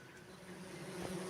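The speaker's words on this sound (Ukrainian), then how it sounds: "Бджілки зараз тут вентилюють, мабуть, трохи меду принесли." A steady, low buzzing drone of many honeybees ventilating at a hive, continuous and fairly close, holding at an even level throughout.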